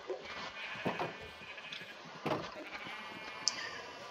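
Sheep in a pen of mostly white sheep in Minecraft give a few faint, short bleats at scattered moments over a quiet background.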